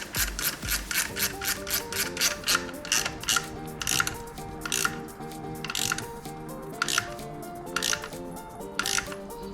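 Ratcheting wrench tightening a bolt while centering the chain on a 2021 Yamaha YFZ450R quad, a steady run of close, rapid metallic clicks with soft rubbing between strokes.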